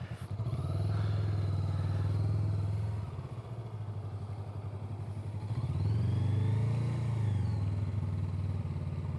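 A cruiser motorcycle pulls away at slow speed with the clutch feathered in the friction zone, its engine note steady and close, dipping briefly before rising again as throttle is added.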